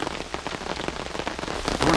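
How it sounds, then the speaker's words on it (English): Heavy jungle rain drums on a poncho shelter in a close, dense, continuous patter, with a slightly louder burst of drops near the end. "And the rain is starting to come down."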